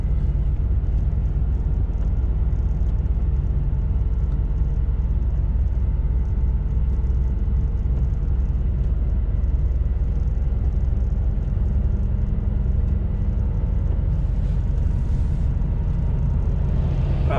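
A truck engine idles steadily at 1250 RPM on a road trip from Petrolina to Chile, a low, even rumble that holds constant throughout with no voices.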